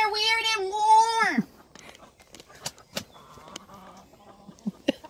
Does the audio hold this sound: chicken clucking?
yes